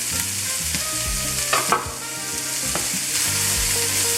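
Garlic hits hot oil in a pot for oxtail soup, and a loud, close sizzle spits and crackles, broken by a couple of sharp metallic stirring clanks midway, with no voices.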